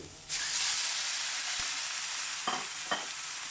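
Pork belly drops into hot oil with fried shallots, garlic and coriander root and bursts into a loud, sudden sizzle. It then settles into a steady hiss, broken by two short scraping stirs near the end.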